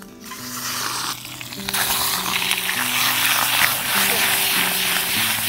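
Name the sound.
sausage roasting in butter in a pan over a wood fire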